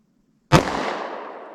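A single loud, close .45 ACP pistol shot from a Federal HST +P 230 grain round, fired from a short barrel through heavy winter clothing: a sharp crack followed by a long decaying echo tail, no talking.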